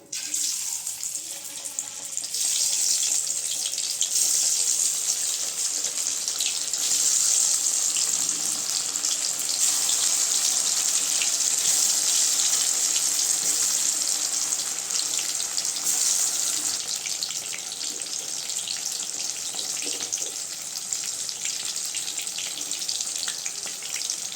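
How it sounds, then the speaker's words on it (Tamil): Parboiled plantain slices fry in hot oil with a loud, continuous, close sizzle and bubbling hiss that sounds much like running water. The sizzle holds steady throughout. "எண்ணெய் சூடாயிருச்சுங்க வாழைக்காயில் போட்டு எடுத்துக்கலாம்"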